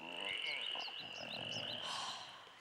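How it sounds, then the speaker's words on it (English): A badger frog croaks in the cartoon Avatar: The Last Airbender, giving a series of rising, chirpy croaks in quick succession, loud and close over a steady ringing tone. "every time you hear a badger frog croak"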